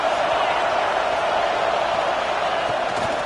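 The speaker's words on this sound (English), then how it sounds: "Listen to this crowd just shaking the girders of this place," A stadium crowd in an American football video game roars in a steady, dense, continuous wash of cheering noise that holds the same level throughout.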